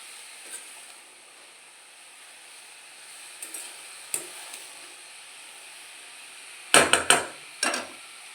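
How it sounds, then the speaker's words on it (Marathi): Masala for a paneer cheese dosa sizzles in a pan on high gas, a low steady hiss broken by a few sharp metallic scrapes and clinks of the spatula, the loudest cluster near the end. "थोडंसं आपल्याला हा मसाला परतून घ्यायचा आहे एक दोन मिनिट आपण हा मसाला परतून घेणार आहोत"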